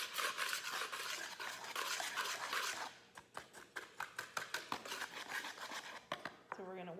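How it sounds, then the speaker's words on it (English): A whisk scrapes and clinks through dry ingredients for zucchini bread in a bowl, first in a rapid continuous swirl, then in distinct rhythmic taps, close and moderately quiet, with a brief voice near the end. "now what we're going to do is just whisk it together"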